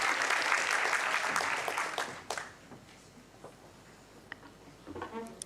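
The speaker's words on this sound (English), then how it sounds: "Please give him a round of applause." Conference audience applauds a speaker coming onstage at an MPI emergency response event, a dense burst of clapping that fades out after about two seconds, leaving scattered faint claps and room noise.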